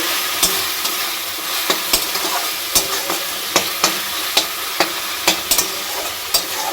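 Curry being stirred in a pan just after mustard and chilli go in: steady sizzling with a run of sharp, regular spoon scrapes against the pan, close and clear, with no talking.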